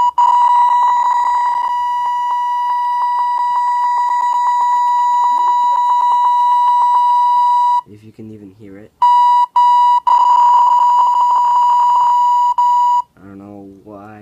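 Square duty synth beep made in the rFXGen sound generator: a loud, steady buzzy tone held for several seconds, then broken into short stuttering bursts and warbling sweeps, with a voice speaking briefly over it.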